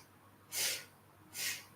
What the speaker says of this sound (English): 3 short breaths in. You can think of them as sniffs.